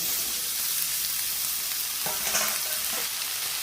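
Crushed garlic hits a hot pan of oil while cooking shapla (water lily stems) Bengali style, giving a steady loud sizzle and frying hiss throughout, with brief stirring scrapes near the end.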